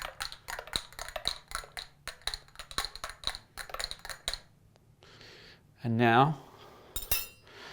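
Espresso cups being shuffled on a counter, giving a quick run of light ceramic clinks and knocks at close range, with someone briefly talking, followed by a short squeak and a soft rattle.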